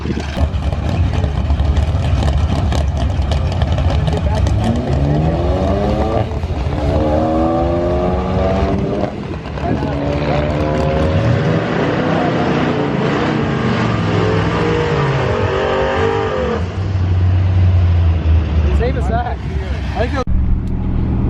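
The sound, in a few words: Ram 1500 pickup truck racing at a dragstrip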